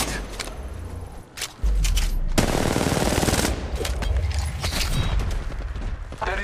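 Rapid automatic gunfire from Apex Legends crackles close and loud in sustained bursts, with a heavy thump and mechanical clatter between volleys and no talk.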